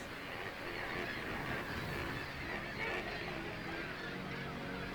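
Seabirds call from a crowded sea cliff on the Scottish coast, a dense, continuous wash of overlapping squawks and honks from many birds at once.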